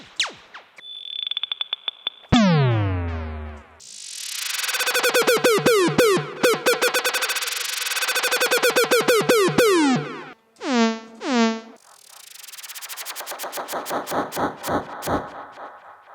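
A run of synthesized laser and siren effects, each one different: rising and falling sweeps, sharp zaps and buzzy warbling tones, loud and close with brief gaps.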